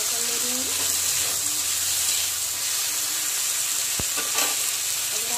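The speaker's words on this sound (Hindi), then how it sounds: "तो भिंडी थोड़ा फ्राई हो रहा है ना" Sliced okra fries in a pan on a home stove, a steady close hiss and sizzle that runs unbroken throughout with a faint knock of a utensil partway.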